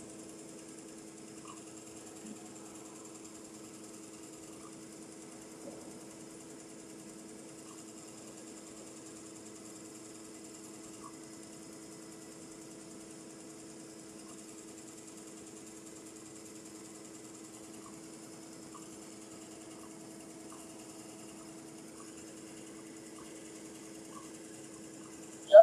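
A Galaxy 5-function combination embroidery machine runs while doing towel-style embroidery, giving a quiet, steady mechanical hum with faint regular ticking that stays constant throughout.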